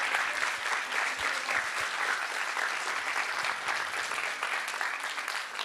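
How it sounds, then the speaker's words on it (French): Sustained, enthusiastic audience applause for the finalists of a French-language thesis-presentation contest, a thick, even wash of many hands clapping at once, loud and unbroken throughout. "un tonnerre d'applaudissements pour les finalistes"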